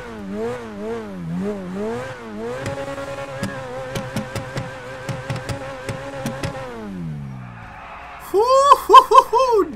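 A Ferrari 458-styled sports car in the game GTA 5 revs its engine in a series of sharp rising and falling blips, then a burst of loud high-pitched revving near the end, heard alone.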